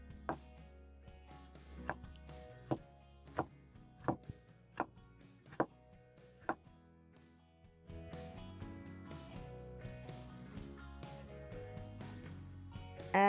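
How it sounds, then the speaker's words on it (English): Knife slicing a large tomato on a cutting board, eight crisp evenly spaced cuts striking the board, followed by a busier stretch of quieter kitchen handling. "Then I'll pick one huge tomato, remove the top part and slice it."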